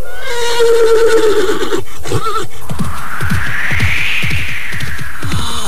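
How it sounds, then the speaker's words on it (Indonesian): A horse neighs loudly and close by near a hut: a long, shrill whinny that rises and falls, followed by snorting, breathy sounds, with no talking. "kuda itu pergi meninggalkan pondok ini"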